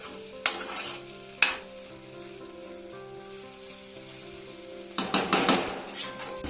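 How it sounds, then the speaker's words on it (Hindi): Masala for bread cutlets fries and sizzles softly in a pan while a utensil scrapes and clinks against it in a few bursts, with a low hum underneath and no voices. "इसे भी मैं 5-6 मिनट तक भूनूंगी।"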